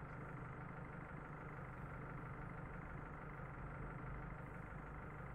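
A fire truck engine idling in the video game Emergency Call 112 simulator, with a steady, low rumbling drone that stays even throughout, with no voices.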